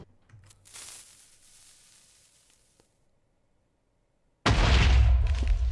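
TNT detonation in the Minecraft game, a faint earlier crackle and pop followed by a sudden loud booming blast that stays roaring to the end.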